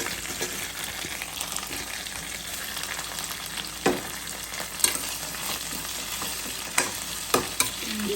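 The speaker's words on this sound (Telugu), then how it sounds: "ఆనియన్స్ వేగిపోయాయండి మా మమ్మీ కొత్తిమీర వేసేస్తున్నారు టమాటోస్ కూడా వేసేస్తున్నారు" Onions frying in a pan as coriander and tomatoes are added for a mango pakoda pulusu, a steady close sizzle with occasional sharp crackles and stirring scrapes, no talking.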